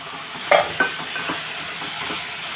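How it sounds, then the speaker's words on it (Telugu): Tomato omelette curry being stirred in a pan, with a couple of soft scraping stirs over a steady low sizzle, close and fairly quiet, no voices. "ఒకసారి మనం కలుపుకుందాం"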